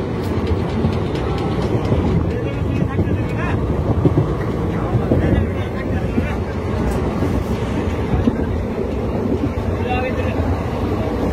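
The 13018 Azimganj–Howrah Ganadevta Express rolls into Rampurhat Junction with a loud, steady rumble and wind buffeting, unbroken for the whole stretch.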